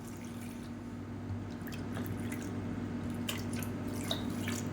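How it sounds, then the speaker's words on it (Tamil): Water is poured into a cup while making horse gram and green gram porridge, heard as a faint, steady trickle with a few soft drips against a low background hum. "இப்போ இதே கப்பில் மூணு பங்கு தண்ணி ஊற்றிக்கலாம்"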